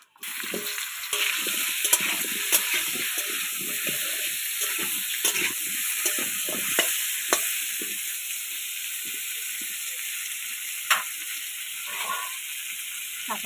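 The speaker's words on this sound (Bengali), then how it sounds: "গরম হয়ে গেছে তেল দিয়ে দেবো লবণ হলুদ মাখিয়ে নিচে ওলকপি ভেজে নেব" Kohlrabi frying in hot oil with salt and turmeric, a steady dense sizzle with crackling pops and occasional stirring clicks throughout, close and fairly loud with no talk.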